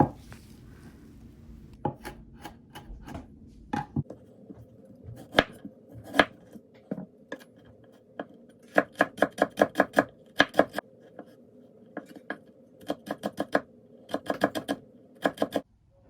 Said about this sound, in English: Next, chop the garlic and ginger into small pieces.